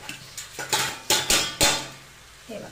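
Metal pots and utensils clank in a home kitchen as a lid goes onto a pot of cooking vegetables: several sharp, close clatters and knocks in quick succession, then a short pause and one last softer clink.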